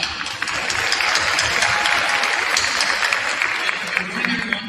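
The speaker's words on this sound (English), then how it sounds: "First off, another round of applause for Ms. Misha." An audience applauds at an eighth grade middle school promotion ceremony, a broad, sustained wash of clapping from a large crowd in a hall, steady and moderately loud with some voices mixed in.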